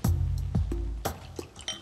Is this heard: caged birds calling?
no